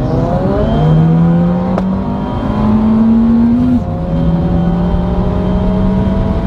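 An Abarth car on a stage 4 tune with turbo boost at 1.8 bar, engine revving hard and climbing in pitch through a gear change with a brief dip, loud and close inside the car.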